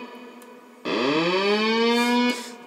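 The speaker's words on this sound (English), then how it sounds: "Oh, a siren-y sound." A harsh circuit-bent electronic tone sweeps upward like a siren and holds, buzzy and distorted, with faint clicks before and after.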